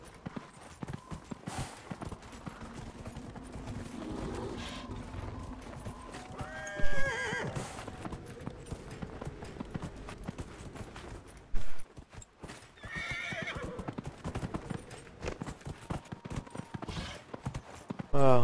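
In Dragon Age Inquisition a horse clip-clops over rocky ground and whinnies several times, its hoofbeats steady and close while someone talks over it at intervals.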